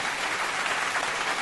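Audience clapping at a live comedy show, a steady dense wash of applause filling the whole moment with no voices over it.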